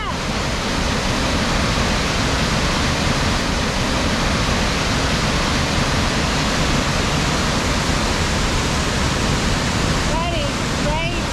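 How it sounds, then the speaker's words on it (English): Paddy Rivers Falls waterfall roaring as a steady, dense wash of falling water, loud and close and continuous throughout, with a brief voice near the end. "Paddy Rivers Falls."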